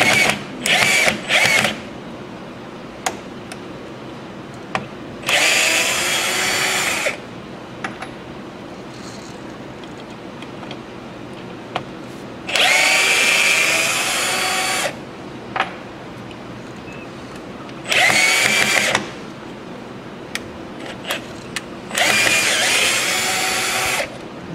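A power drill drives screws in several loud, close whirring bursts lasting a second or two each, separated by quieter gaps with small knocks and handling sounds, set in a woodworking shop making a natural edge white oak bowl.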